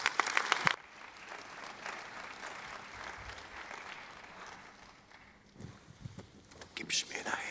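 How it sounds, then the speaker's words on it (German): Church congregation at a cathedral's 20th anniversary service applauding as a youth group arrives, a burst of clapping at the start, then lighter scattered clapping and footsteps with quiet murmuring, swelling again near the end. "Also herzlichen Applaus"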